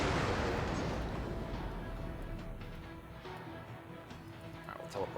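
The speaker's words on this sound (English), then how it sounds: "Explosion imminent." A heavy explosion in the X4 space game booms out loud at the start and then decays into a long rumbling roar that fades slowly over several seconds.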